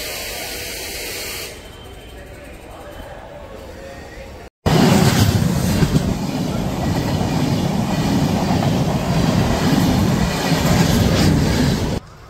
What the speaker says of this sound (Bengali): তবে বেশ কিছুটা লেট করে 10টা 26-এ আপাতত ট্রেন ঢুকলো।